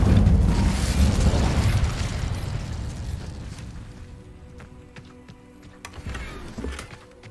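The Incendio fire spell is cast in Hogwarts Legacy: a loud, close burst of roaring flame that swells at once, then slowly fades over several seconds into quieter mechanical clicks and rumble.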